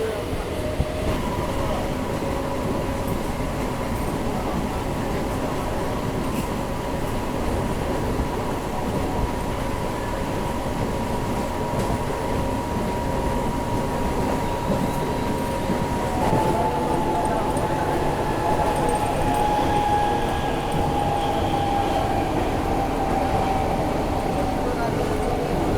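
A moving Bandel–Barddhaman local train, just pulled out of Pandua station with a nearly empty carriage, rumbles steadily from inside, a continuous loud clatter with a faint high tonal whine drifting through.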